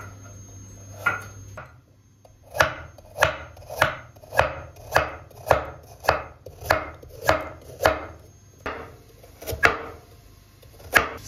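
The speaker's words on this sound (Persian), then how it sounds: "برای همین من حلقه های نازک نازک میزنم" A knife cutting a carrot into thin rings on a board for Turkish lentil soup, about a dozen sharp close chops in a steady even rhythm after a quiet start, with no talking.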